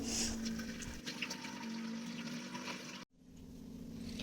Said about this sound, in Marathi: म्हटलं माठ पण छान भरून घ्यावा